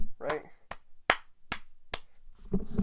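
A few sharp, isolated handclaps for a set builder ring out at a slow, uneven pace, about five in all, close and distinct, with a voice talking before and after them.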